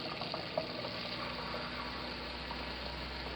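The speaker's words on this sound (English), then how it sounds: "I'm going to turn my water pump on." An RV's water pump runs steadily, pushing water through the plumbing lines in a continuous rushing, hissing hum with a low drone underneath, constant and unbroken throughout.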